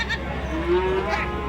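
Horned sheep bleat at a village livestock market in the early morning, a single drawn-out bleat rising over a steady low rumble of market bustle, with no clear speech.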